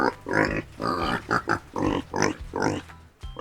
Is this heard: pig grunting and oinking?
yes